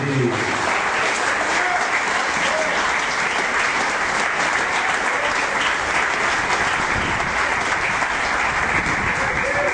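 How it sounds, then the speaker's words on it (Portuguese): A church congregation and children clap together in a continuous, loud, even wash of applause that holds steady for about ten seconds, with brief voices near the start. "Aplauda o Senhor, assim como as crianças estão aplaudindo."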